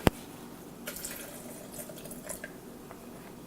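Water goes into a blender for a protein shake, heard as a soft run of drips and splashes after one sharp knock at the start, fairly faint and with nobody talking.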